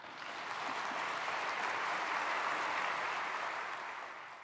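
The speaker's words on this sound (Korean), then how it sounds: "우리 총장님 나오실 때 박수로 환영해 주시겠습니다" An audience at a church prayer service claps in welcome as a university president comes forward to preach, a full, even burst of applause that swells and then eases off at the end.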